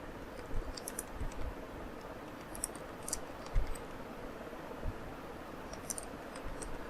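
Soft, irregular clicks of someone typing a short post title on a computer keyboard, quiet and close, with light clusters of keystrokes against a faint background hiss and no talking.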